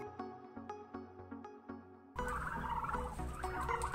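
Turkeys in a family poultry yard give repeated gobbling calls in a steady rhythm, then louder, denser mixed yard noise joins them, at a moderate distance.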